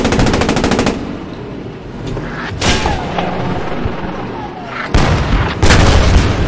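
Combat in the World War II video game Post Scriptum: a loud burst of rapid machine-gun fire opens, followed by heavy booming tank cannon shots and further gunfire bursts, close and intense, with a voice briefly heard.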